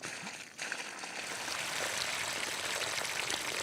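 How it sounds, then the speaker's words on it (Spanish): Artificial heavy rain pours from a water tank and hose, a steady broadband hiss of falling water that builds after a brief dip and continues evenly, with no talk. "Janine Rabe simulará ahora una fuerte lluvia con un tanque de agua y una manguera."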